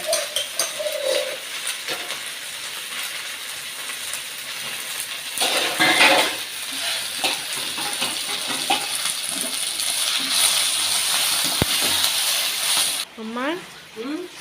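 Dishes being washed in the morning during heavy rain: clinking pots and utensils, splashing water and scrubbing, with occasional voices nearby.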